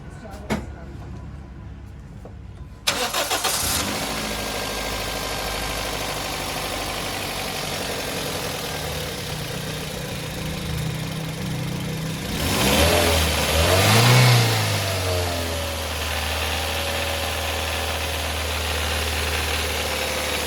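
A Toyota GLI car engine idles steadily with the bonnet open during an oil change and a noise check, then revs briefly in a single rising surge before settling back to a low, even idle, with voices nearby.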